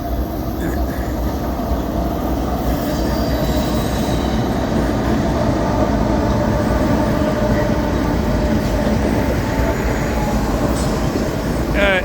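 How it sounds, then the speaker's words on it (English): A train on the FEC railway rumbles loudly and steadily past, with wheels squealing and rattling, close by and continuous throughout. "All right, here comes the train."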